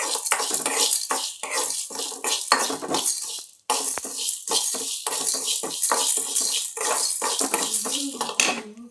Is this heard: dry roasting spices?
yes